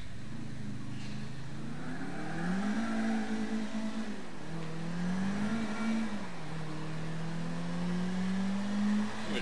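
Car engine in the Bourne video game revving and accelerating steadily, with pitch rising and falling through gear changes, loud and continuous with no talk over it.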